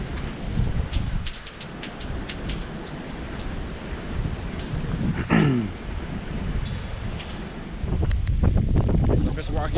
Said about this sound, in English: Still is raining. Still is windy.